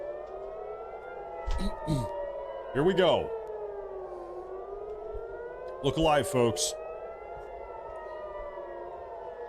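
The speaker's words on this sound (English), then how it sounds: "Here we have our air raid sirens, folks." Civil defense air raid sirens wail continuously with slow rising and falling pitch sweeps, steady and fairly loud, while someone talks briefly over them in a couple of short bursts.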